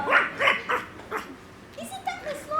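Barking for Willoughby the dog on stage in a youth theatre production of Mary Poppins, several sharp close woofs in quick succession followed by softer whimpering yips, likely a performer's voice imitating a dog.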